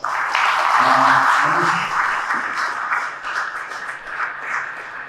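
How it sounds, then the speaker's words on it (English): Conference audience applauds a finance panel discussion, a loud burst of clapping that gradually thins out over several seconds, with a voice speaking briefly over the start. "Why don't we give our panel a big round of applause?"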